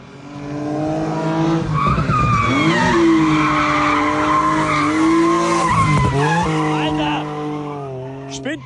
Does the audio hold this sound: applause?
no